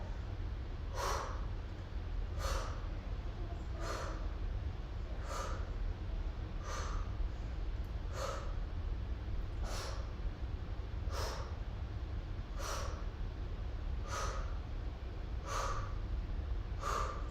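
Sharp, forceful exhales from a person doing ab crunches, repeating at a steady rhythm about every second and a half, close to the microphone over a constant low background hum.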